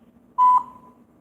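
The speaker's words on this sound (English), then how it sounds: "call will start at the beep." A single phone-line beep tone sounds clearly for about a quarter second, with a fainter tail, as a call-in segment begins.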